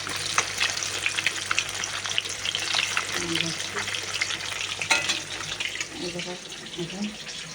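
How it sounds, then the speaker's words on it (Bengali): Oil sizzles and crackles steadily as fish fries in a pan, with occasional clinks and stirring sounds close by. "এই যে ভাত বসেছি, এটা ভাত, মাছ ভাজা আছে,"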